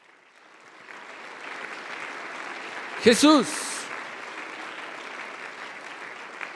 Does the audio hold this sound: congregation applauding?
yes